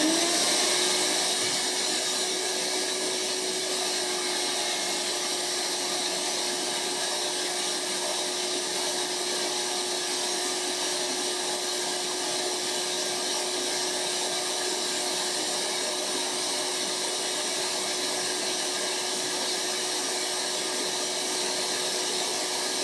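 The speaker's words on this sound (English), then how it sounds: "I'm going to turn the shop back on, get the heat gun on." Heat gun blowing steadily on plastic sheet to soften it for vacuum forming stencils, a loud continuous whooshing hiss that runs alone and unbroken throughout.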